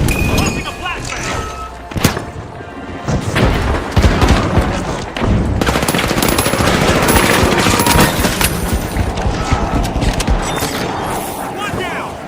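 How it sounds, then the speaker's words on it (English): A flashbang goes off with a sharp bang amid dense, continuous gunfire and explosions in a match of The Finals, loud and chaotic throughout, with game voice callouts mixed in. "Launching a flashbang."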